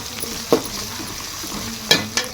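Onions frying in a pot for pulao, cooking at home, with a steady low sizzle and a few sharp scrapes of a spoon against the pot, no one speaking.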